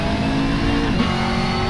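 A LaFerrari's engine holds a steady, loud drone in Assetto Corsa, the hybrid V12 hypercar humming at high revs with a faint swell near the middle and no talk over it.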